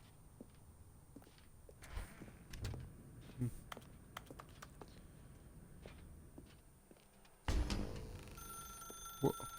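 A telephone rings inside a narrated video game set in a dark room, entering suddenly near the end as a bright electronic trill over soft clicks and footsteps.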